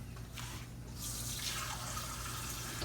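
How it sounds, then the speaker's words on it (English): Water poured into thick gravy in a pan for chicken fried steak, a soft, steady liquid trickle and splash at close range, fairly quiet, with no voices. "I'm gonna have to add a little bit of water to this."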